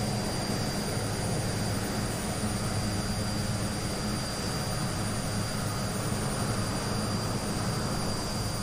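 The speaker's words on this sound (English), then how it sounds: "That was a 3-pointer landing." An Aerosoft Twin Otter turboprop touching down in Microsoft Flight Simulator, on a Glasgow to Barra flight, gives a constant loud engine and propeller roar that stays steady throughout, with no talking.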